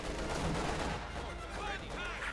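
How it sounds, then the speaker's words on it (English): Mortar and artillery fire in the Company of Heroes 2 strategy game, a dense, continuous barrage of booming shots and blasts at steady loudness throughout. "There you go, mortar firing."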